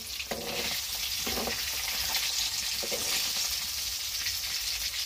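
Fresh river fish frying in hot oil in a village kitchen, a steady loud sizzle and crackle throughout, with a few brief clinks or scrapes of a utensil.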